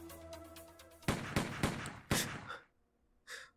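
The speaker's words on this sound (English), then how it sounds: "Four short, muffled gunshots respond." Four short, muffled gunshots ring out in quick, uneven succession, each a sharp close burst, followed by near silence and one last softer report.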